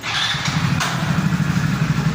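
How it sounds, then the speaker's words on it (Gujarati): A motorcycle engine idles and putters close by as the bike is parked in a cinema parking area, a steady low rumble with a brief higher rev. "આ પાર્કિંગ કરે બાઇક"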